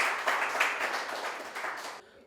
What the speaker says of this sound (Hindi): एक बार जोरदार तालियां हो जाए दीपक जी के लिए।